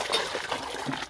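Water pouring into cattle feed for fattening a bull, a short steady trickling splash lasting about a second, close and fairly quiet with no voices.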